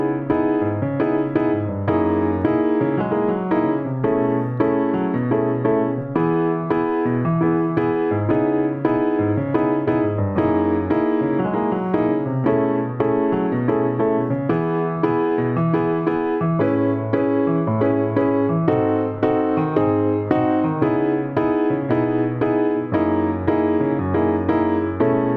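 Piano plays continuously through a full run of a song, steady chords and melody notes flowing without pause at a moderate, even volume.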